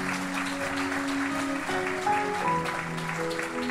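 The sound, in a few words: congregation applauding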